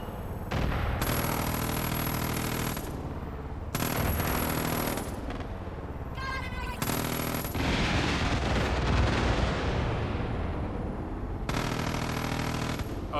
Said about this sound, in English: Someone's firing a rocket.